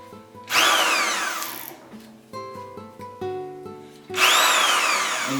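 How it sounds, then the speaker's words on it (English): A hammer drill whines up loudly in two bursts, spinning up and winding down, with quieter mechanical clicking and whirring between them. "This is a hammer drill."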